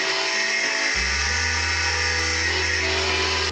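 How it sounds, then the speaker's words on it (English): A cutting disc on an angle grinder slices off a seized, spinning steel fork clamp on a Honda Varadero motorcycle, a loud steady high whine that drops in pitch as it bites into the metal, with no speech. "so we cut that off with a death wheel."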